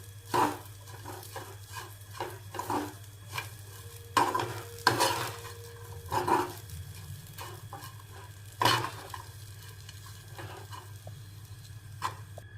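A spoon stirs oats upma in a pan, making rhythmic scraping strokes with a soft sizzle underneath. Each stroke is close and distinct, over a low steady hum from the stove.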